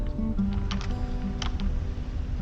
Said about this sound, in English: So just type in TDI